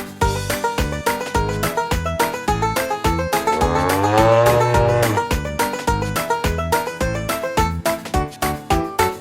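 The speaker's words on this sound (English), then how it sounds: "on his farm he has a cow, E-I-E-I-O. with a moo-moo here and a moo-moo there." A long, drawn-out cow moo rises in the middle of a bouncy Old MacDonald children's farm song, set against steady rhythmic music beats.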